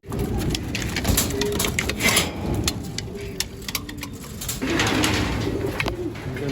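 Racing pigeon hens coo repeatedly inside a loft, close and fairly loud, with overlapping throaty calls and light ticking movement.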